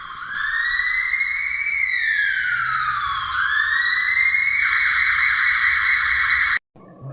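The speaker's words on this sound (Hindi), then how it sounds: "और बबलू उन्हें एम्बुलेंस में बैठाकर डॉक्टर के पास ले जाता है।" A loud ambulance siren wails, sweeping steadily up and down, close by and continuous, then cuts off abruptly near the end.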